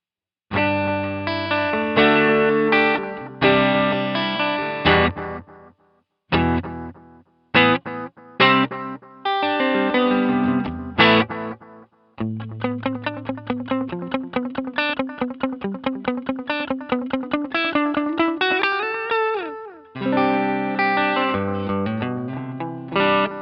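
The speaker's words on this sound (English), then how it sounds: "I'm going to engage the pedal now with the most amount of milliseconds of delay and the intensity way up" An electric guitar plays through a Boss DM-2 analog delay pedal set to maximum delay time and full intensity. Loud chords and fast picked notes carry short repeating echoes, with brief gaps between phrases and no talking.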